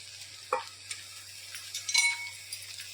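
A spoon stirring freshly grated coconut into melted jaggery in a pan over a low flame, for modak filling, gives soft scraping and a faint sizzle with a couple of louder scrapes, alone and close.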